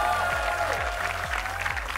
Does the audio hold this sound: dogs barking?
no